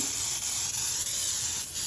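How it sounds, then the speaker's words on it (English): Baker's Joy baking spray hisses briefly into a Bundt pan: one short, close, steady spray lasting under two seconds. "That way I can spray my pan so nothing sticks."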